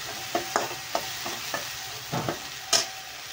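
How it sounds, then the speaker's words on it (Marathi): Spice masala roasting in a pan for a green-chilli potato curry: about eight irregular spoon scrapes and taps against the pan over a quiet, steady sizzle, nearby. "आपल्याला ही मसाला भाजून घ्यायचा आहे चांगला"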